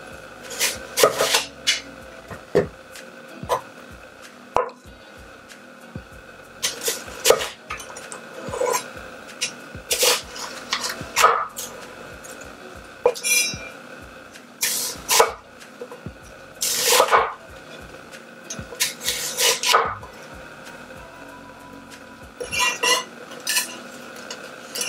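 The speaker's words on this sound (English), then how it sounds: "Cut onions." Onions chopped with a knife for beef curry, the blade knocking on a cutting board in a steady run of sharp, close taps with brief pauses between bursts.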